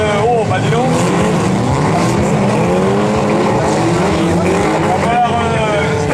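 Stock cars race close by on a circuit, engines roaring loudly and continuously with shifting pitch as cars pass, under a French commentator's speech.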